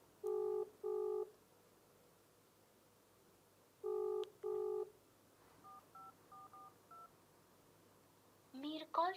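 A telephone keypad sends touch-tone beeps while calling a switched-off phone: two paired bursts, a short pause, two more, then a run of quick lighter tones, with a voice starting up at the end.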